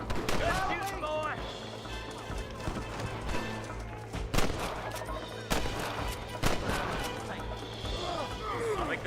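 Gunfire in a Red Dead Redemption shootout: scattered loud shots and volleys crack out irregularly over a steady game backdrop, with character voices talking between the bursts.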